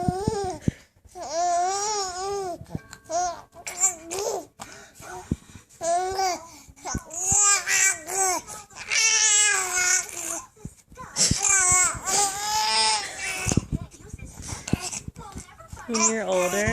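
A baby eating sweet potatoes grunts, squeals and babbles in strained bursts while pooping, close up with short pauses and occasional laugh-like sounds.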